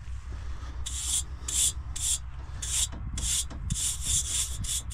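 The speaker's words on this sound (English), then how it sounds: "Snow brush." A snow brush sweeps chaff fuzz off farm machinery after swathing, making repeated short bristly rubbing strokes in irregular bursts over a low engine rumble, close and fairly loud.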